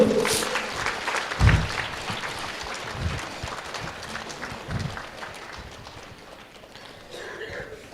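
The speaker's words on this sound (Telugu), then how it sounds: "స్వామీజీ వారికి ఒకసారి గట్టిగా చప్పట్లు కొట్టుకుంటూ" An audience claps for a Swamiji at a Telugu literary gathering, a fairly faint, steady spatter of applause from a crowd, with a few louder thumps near the start, fading gradually toward the end.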